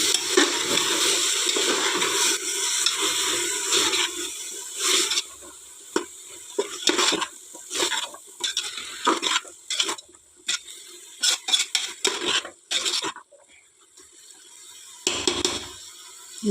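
Chopped mint leaves are stirred in a pan while making a dill-leaf pulao, with soft sizzling under repeated scraping and clinking strokes of a spoon, close by and alone.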